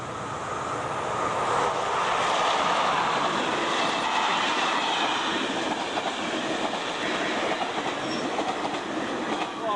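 A train rolls past with a steady, loud rumble and faint rhythmic clatter of wheels on rails, continuous throughout with no voices.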